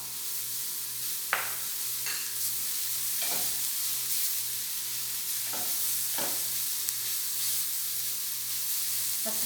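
Leeks sauté in a pan for a savory low-carb pie filling, giving a steady sizzle with several scraping stirs of a utensil. The sound is close and has no speech.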